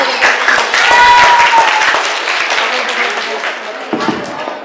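Loud applause from a crowd at an Independence Day celebration, dense clapping that swells then gradually tapers, with a voice speaking over the start.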